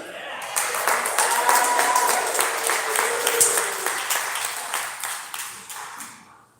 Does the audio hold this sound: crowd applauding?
yes